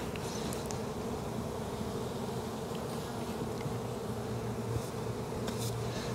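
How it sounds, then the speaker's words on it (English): Honeybees buzz in a steady, dense drone around an opened hive during an April inspection, continuous and even throughout with no pauses or voices. "I'm going to get the bees off of the roof"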